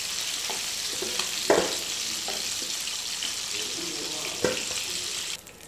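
Chicken pieces fry in hot oil for chicken dum biriyani, a steady close sizzle broken by a few clinks and stirring knocks from the pan.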